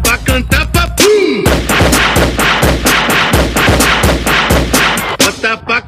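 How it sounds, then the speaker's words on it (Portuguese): Rapid rifle gunfire effects cut into a loud funk beat, sharp repeated shots landing in rhythm alongside booming bass, with a brief descending whoosh near the start. "Bota o fuzil pra cantar papum."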